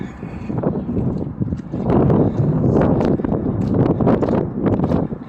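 Wind gusts steadily across the microphone on a cleared sidewalk near an old bridge at Reversing Falls in Saint John, New Brunswick, making a loud, continuous rumbling buffet with fluttering surges throughout.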